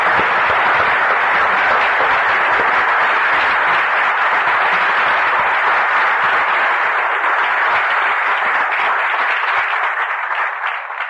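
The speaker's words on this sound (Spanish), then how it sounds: "Vamos a dar un aplauso al Señor Jesucristo" A church congregation applauds, loud, sustained clapping from many hands that fills the room for about ten seconds before tapering off at the end.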